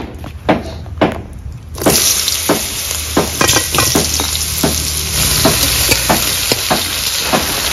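Chopped ridge gourd drops into hot oil already tempered with cumin and bay leaf, bursting into a loud, steady sizzle with sharp stirring clacks of a spatula recurring throughout, close and without speech.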